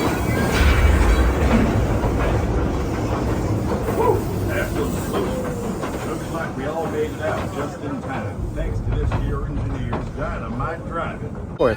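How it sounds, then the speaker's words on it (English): A mine train dark ride at Knott's Berry Farm theme park rumbles steadily along its track with faint rhythmic clatter, while people talk over the continuous rolling noise. "It was like basically taking a train through the mine"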